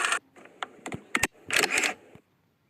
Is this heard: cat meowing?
no